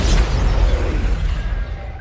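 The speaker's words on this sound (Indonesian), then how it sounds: "Gedung tersebut meledak saat setelah Tadashi memasukinya" A building explodes in an animated film, a loud deep boom with a rumbling burst that holds strong for about two seconds and slowly decays.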